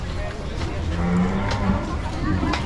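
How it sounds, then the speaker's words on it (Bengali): Indian Rajasthani cows low at a busy cattle market in Dhaka, with a drawn-out moo rising above the steady crowd murmur and faint voices nearby. "এগুলো সব হচ্ছে ইন্ডিয়ান গরু।"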